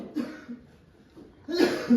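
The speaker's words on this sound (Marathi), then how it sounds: "एक खोकलताय." A person at a village house construction site coughs in two short bursts, close by, with quiet pauses between them.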